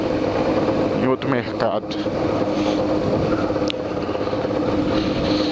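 A motorcycle engine running while riding on a cold engine, a steady loud rumbling drone with wind noise throughout, continuous and close, with someone talking over it.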